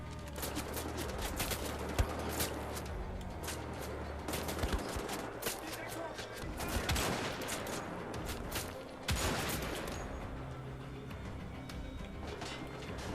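Wolfenstein: The Old Blood game gunfire, dense rapid automatic shots and bursts packed continuously over a loud action soundscape, with brief heavier blasts throughout.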